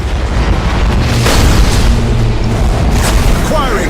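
Imperial battleship main batteries firing in Battlefleet Gothic Armada 2, heavy booming blasts rolling under dense game noise, with a voice speaking over the gunfire.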